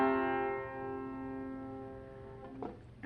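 Single chord strummed on a plectrum banjo, bright metallic strings ringing out close and slowly fading, followed by a faint fumbling noise.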